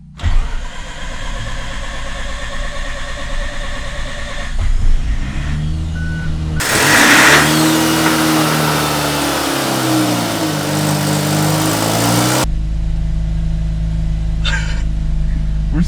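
A Mazda RX8 rotary engine cranks in a garage, then catches and runs, revving up and down loudly in uneven surges before settling, with brief voices nearby.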